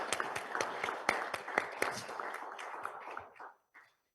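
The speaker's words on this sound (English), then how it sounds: "I think a big applause to Elena for all the work that she has done" Scattered applause at an energy conference gathering, a modest group clapping with separate, distinct claps that thin out and stop abruptly near the end, followed by near silence.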